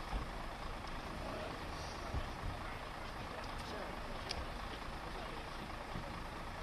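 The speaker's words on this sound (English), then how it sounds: "These noisy cars," Steady traffic rumble of vehicles passing on a busy street, a continuous wash of engine and road noise with a few faint higher tones; a voice can be heard beneath the din.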